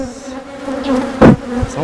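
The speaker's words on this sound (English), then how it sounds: "Wish the bees would get off the camera." Honey bees swarm right against a camera inside a hive, a loud close drone with shifting pitch and a sharp louder pass as one bee brushes the lens, no talking.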